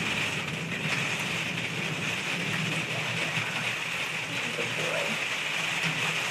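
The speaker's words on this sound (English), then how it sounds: "There's the thunder coming." Steady rain pours throughout a thunderstorm, a dense even hiss close by, with a faint low rumble that may be distant thunder underneath.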